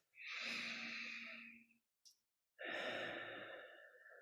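Two slow, deep breaths during a guided body-scan meditation: a long, airy inhale and exhale, a brief pause with a soft click, then a second full breath, close and alone.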